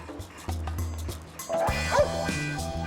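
A German Shepherd police dog barks in a series of sharp, close, evenly spaced barks. Louder background noise and clatter join halfway through.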